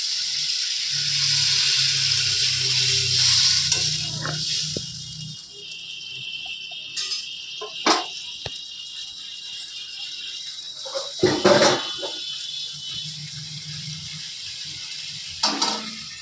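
Water is poured into a hot pan of cauliflower and potato curry, setting off a loud steady hiss and sizzle that gradually fades, followed by scattered clanks and stirring sounds.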